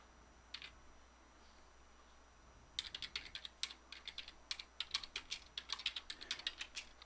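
Rapid typing on a computer keyboard to enter data into an accounting program, starting with a brief burst of keystrokes, then a steady quick run of clicks close to the mic in a quiet room.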